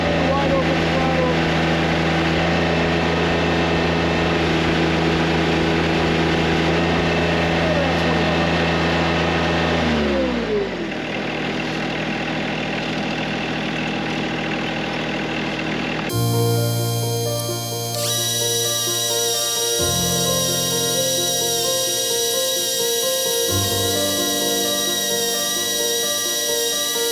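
Engine powering a hydraulic system held at wide open throttle, a loud sustained tonal drone that drops in pitch partway through, then shifts to a different whining tone.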